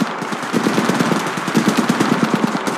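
Sustained automatic gunfire from a weapon in the Apex Legends battle royale video game, a loud rapid burst of shots firing steadily for nearly three seconds with no talking.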